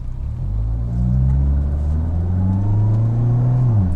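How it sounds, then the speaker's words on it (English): A car engine rumbles loudly close by as it revs and climbs steadily in pitch for several seconds, then drops off abruptly. Individual exhaust pops are not clearly distinct in the sound. "when this car pops, it's nice"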